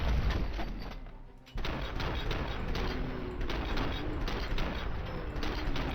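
Gunfire from the video game Robocop Rogue City: dense, rapid bursts of shots that break off for a moment, then continue as a sustained, loud barrage.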